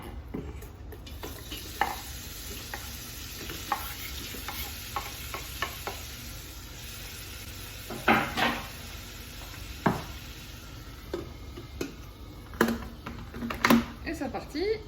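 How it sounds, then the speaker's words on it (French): Onions sizzle steadily in a hot pan while a utensil stirs and scrapes them, with occasional clinks of cookware and a person talking over the cooking. "Du coup, je mets les oignons."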